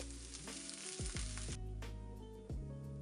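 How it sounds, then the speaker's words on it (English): Onions sautéing in olive oil in a hot pan over medium to medium-high heat, a soft steady sizzle with tonal background hum and a couple of brief scrapes, fairly quiet and without talk. "On medium to medium-high heat, I'm adding my onions in and cooking it until translucent."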